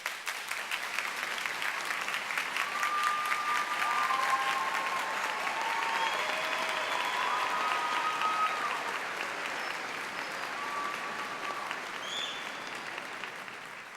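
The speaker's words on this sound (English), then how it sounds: "Everybody clap your hands!" A crowd at a high school commencement claps steadily for the full stretch, a dense, even patter of many hands heard from some distance, with faint tones drifting over it.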